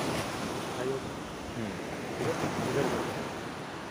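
Sea waves washing in and pulling back against a rocky shore of displaced stones at an Indian coastal spot, a continuous rushing surge under heavy wind noise, with a short spoken word from a man.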